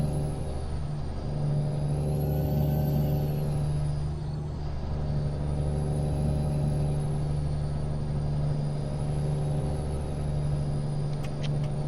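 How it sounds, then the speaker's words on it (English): In American Truck Simulator, a heavy truck engine drones steadily with a low rumble, and a high turbo whine rises and falls above it, continuous and without speech. "And what that whine is, believe it or not, that's the turbo."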